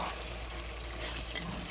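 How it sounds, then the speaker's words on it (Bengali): Small pieces of desi chicken and potatoes fry in a pot for a red curry. There is a faint, steady, close sizzle with a light stir or clink near the end. "দেশি মুরগির লাল ঝোল হচ্ছে, এরকম ছোটো ছোটো পিস দেশি মুরগি।"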